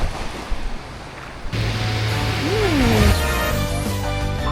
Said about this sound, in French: C'est sur ce doux son des vagues que s'achève l'épisode 5 de mes aventures